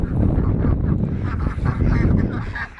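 Hungry ducks quacking and honking loudly in a close, busy cluster as they are fed, continuous overlapping calls throughout.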